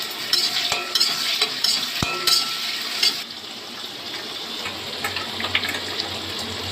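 Chopped onion and tomato with dried red chilli dropped into hot oil for a country chicken curry, giving a steady close sizzle and hiss with light stirring scrapes and a sharp clatter near the start, no voices.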